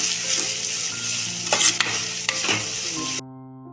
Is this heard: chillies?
yes